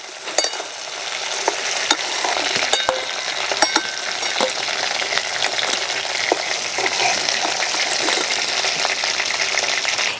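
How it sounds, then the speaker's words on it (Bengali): Prawns frying in hot oil, a loud, dense, continuous close sizzle with sharp crackles and spits through the start, running steadily without talk. "এবার বাকি মাছগুলোও ভেজে নেব।"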